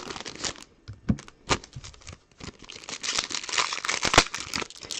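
Foil trading card pack wrappers for football and baseball cards being torn open and crinkled by hand, a dense run of close, crackly rustles and sharp tearing bursts with no talk.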